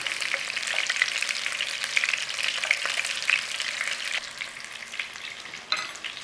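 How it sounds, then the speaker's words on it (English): Meatballs sizzling in a hot frying pan while being gently nudged around, a continuous close crackle of oil with occasional soft scraping and shifting, no voices. "So you're going to have to gently move them about in that pan. Try not to break them up."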